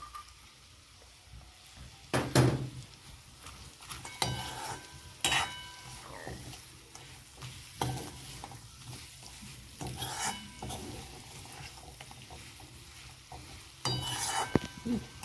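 Fried cashews stirred into a karela (bitter gourd) curry in a pan, with repeated scraping spoon strokes against the metal over a soft, steady sizzle of oil.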